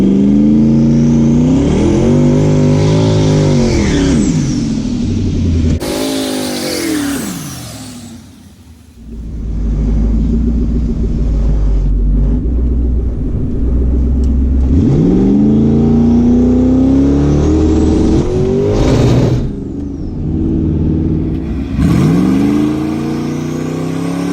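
A turbocharged drag car launches and accelerates hard. The engine is loud and close, climbing through the revs with several gear changes and sweeping tones rising and falling, then roars on at full throttle.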